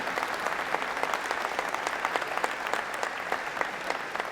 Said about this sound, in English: So give her another round of applause